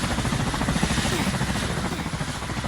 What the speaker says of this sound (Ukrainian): тому що, блін, це гелікоптер